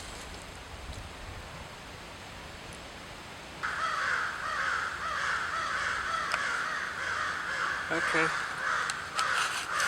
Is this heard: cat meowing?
no